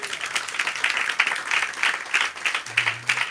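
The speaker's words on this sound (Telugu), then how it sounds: "చప్పట్లు కూడా దేవుని స్తుతిద్దాం." A church congregation claps together in praise of God, a loud, dense burst of rhythmic clapping that pulses steadily throughout.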